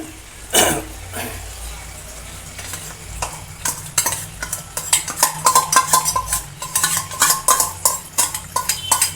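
Gongura sorrel paste is mixed into a prawn curry in a pan, with rhythmic scraping and clinking of a spoon against metal that grows busier and louder in the second half, over a soft background sizzle.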